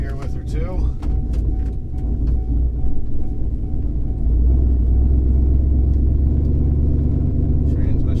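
A cammed 8.1 Vortec pickup truck with a 5.13 gear swap driving empty, its deep engine rumble and drone steady and loud, rising into a heavier low roar partway through, with a few brief clicks and squeaks early on.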